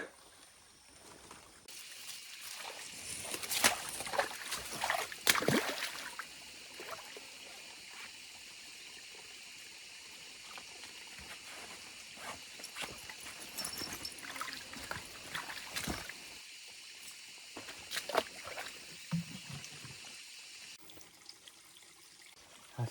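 Spring water trickling and bubbling straight out of the ground in a forest, a steady close splashing flow with louder gurgling bursts, heard alone without voices.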